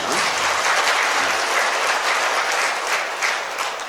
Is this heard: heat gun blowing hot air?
no